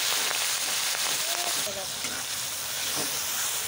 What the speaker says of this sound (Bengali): চিংড়িটা আগে ভেজে নেব